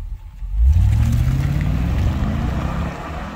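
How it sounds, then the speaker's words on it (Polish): A swapped car engine starts roaring from near-quiet, rising quickly into a loud, deep, sustained growl with a climbing tone, then holding a steady powerful drone close by. "Drze się niesamowicie, świetnie, ma ogromną moc, a przy okazji brzmi super dostojnie."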